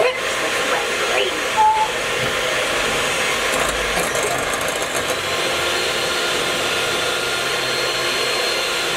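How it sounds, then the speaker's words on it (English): An electric mixer runs on high, whipping cream for homemade whipped cream: a steady, loud whirring drone that holds unbroken throughout with no talk over it. "Let's mix this whipped cream."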